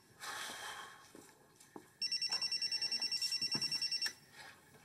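A cell phone rings with a steady electronic ringtone, a run of evenly pulsed tones lasting about two seconds after some rustling and soft movement in a quiet room.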